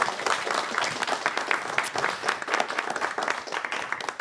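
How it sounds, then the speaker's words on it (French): A retirement-home audience applauds steadily, dense clapping that holds level and close throughout without any talk over it. "On vous applaudit."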